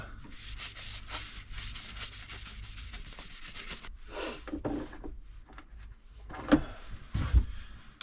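Light hand sanding (denibbing) of a turned spalted-timber vase after sanding sealer, using fine 1,000-grit-equivalent abrasive: quick, even back-and-forth strokes for several seconds, then a few scattered knocks and handling sounds.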